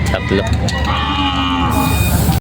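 Cattle low loudly and close at the Lucena livestock auction market, one drawn-out moo over busy crowd noise and engine rumble.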